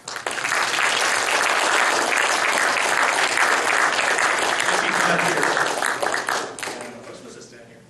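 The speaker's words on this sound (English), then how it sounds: "let's give him a round of applause for Trevor Bryant." Sustained audience applause at a Royal Astronomical Society of Canada Winnipeg Centre members' meeting, dense and loud for about six seconds before tapering off; no voices over it.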